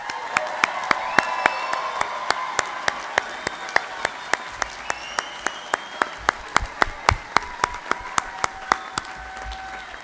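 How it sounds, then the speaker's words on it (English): Audience applause for graduates at a Colorado State University natural resources commencement, a long stretch of dense clapping with crisp, regular hand claps close by on top and faint crowd voices underneath. "let's give all those graduates a big round of applause"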